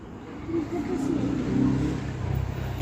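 A car engine hums and revs nearby at night in a residential area during Holi, a steady mid-pitched drone with gentle swells throughout.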